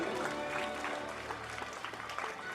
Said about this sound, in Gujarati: આપણે એમના સ્વાગતને તાળીઓથી બિરદાવીએ